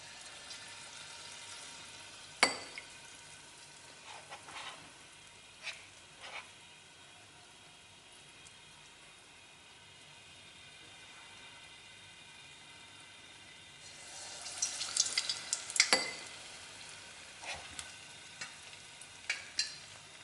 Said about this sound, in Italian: lo mettiamo nell'olio